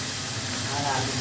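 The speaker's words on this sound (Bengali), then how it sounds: "এখানে একটু পেঁয়াজ কুচি দিয়ে দিচ্ছি" Chopped onion hits hot oil in a pan for a fish curry, giving a steady, loud broadband sizzle and hiss throughout the short moment.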